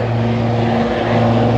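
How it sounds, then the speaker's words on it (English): A helicopter passes overhead, a loud, steady rotor drone with a low throbbing hum that holds constant and swells slightly toward the end. "it's another helicopter."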